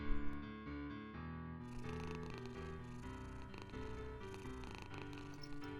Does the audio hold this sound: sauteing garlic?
no